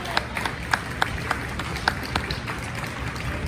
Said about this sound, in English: give her another round of applause as she exits the stage